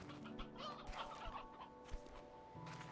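A flock of chickens clucks softly in Slime Rancher 2, with faint, overlapping, irregular clucks heard without any talk.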